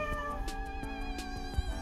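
A cat meows a few times in close succession over steady tonal background noise, the calls close and fairly clear with no talking.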